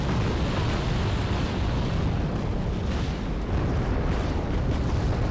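Cluster bombs burst in a Wargame Red Dragon battle: a dense, continuous roar of overlapping explosions and rumbling blasts, loud and unbroken for the whole stretch, with no voices.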